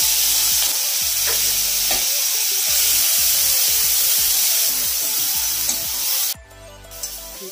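Onion paste is stirred into hot tempering oil in a pan for a Bengali doi katla, making a loud, steady sizzle with repeated scraping strokes that drops away abruptly near the end.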